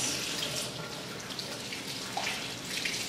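Water runs steadily from a tap in a constant hiss, close and moderately loud, with no voices.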